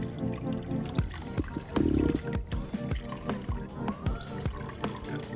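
Coolant drains out of a 2007 Suzuki GSXR 600 motorcycle in a trickling, splashing flow, punctuated by irregular drips and small clanks at close range.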